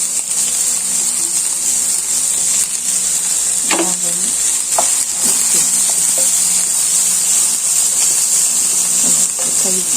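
Beans, carrot and onion for thoran sizzle in a hot pan, a steady loud frying hiss with a few stirring scrapes.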